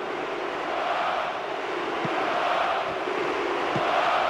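A stadium crowd in a PES 2009 football match between Portugal and Turkey sends up a steady, dense roar that holds at an unbroken level throughout, with faint thumps underneath.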